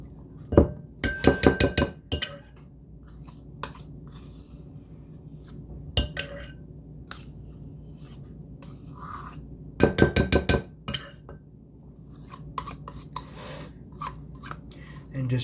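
Metal spoon scraping peanut butter from a jar into a mixing bowl while making three-ingredient peanut butter cookies, heard as two loud clattering bursts of scraping and clinking, with quieter scrapes between.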